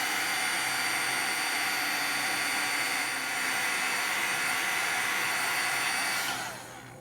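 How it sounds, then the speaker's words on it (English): A heat embossing gun blows hot air over embossing powder on a watercolor card. It makes a loud, steady, hairdryer-like roar that runs for about six seconds, then fades out. "we're going to bring in our heat embossing gun"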